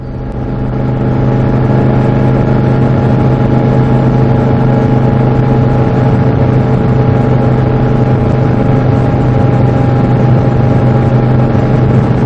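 A steady, loud engine drone fills the scene on a remote northern highway near James Bay, likely a 1972 Moto Guzzi motorcycle ridden along the road, with a constant hum and no distinct passing swell.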